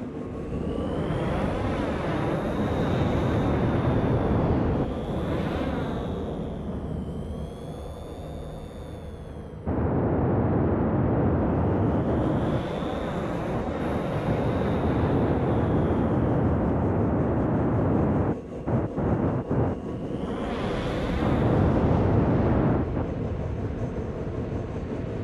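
A spaceship's engines in the video game Star Citizen as it comes in to land, a loud sustained roar and whine that swells and shifts in pitch, briefly dropping out and surging again.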